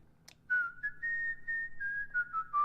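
A person whistles a clear, sliding melodic line that gently rises and falls, heard alone and close after a brief breathy puff at the start.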